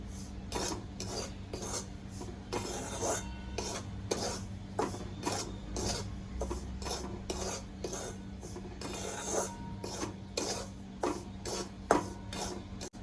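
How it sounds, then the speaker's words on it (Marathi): Semolina roasting over low heat in a pan, stirred with a utensil that scrapes in a steady rhythm of repeated rasping strokes, close and moderately loud, with no voices. "मंद आचेवर लाल लालसर करून भाजायचं"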